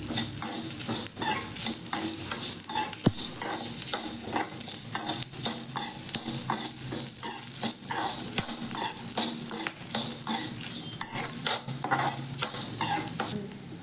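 Pirandai fries in a pan with chili, shallots and a piece of tamarind, a constant sizzle broken by brisk, regular spatula scrapes and clinks against the pan, with no voices.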